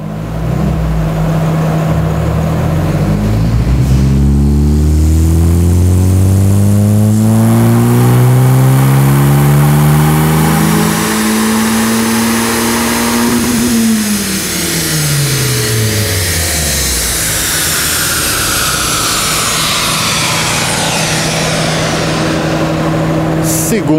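Fiat T-Jet turbo engine screaming through a dynamometer pull, revs climbing steadily in a loud sustained rise, peaking, then dropping away as the throttle closes, with the turbo and exhaust note filling the room.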